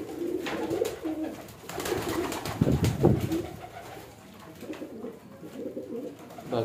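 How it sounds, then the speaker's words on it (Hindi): Pigeons cooing steadily in a breeder loft, a soft, throaty rolling coo repeated throughout at close range, with no voices over it. "बाकी कबूतर सारे जो है फिट नज़र आ रहे हैं"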